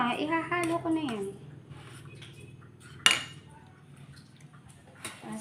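Pechay baguio salad being tossed in a bowl with pepper, clinking and scraping of utensils against the dish in short bursts, with people talking and a voice nearby.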